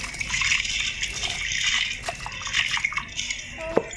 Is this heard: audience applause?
no